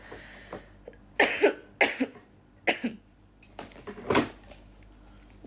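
Several short, dry coughs in a row, close and fairly loud, with brief pauses between them and no talking.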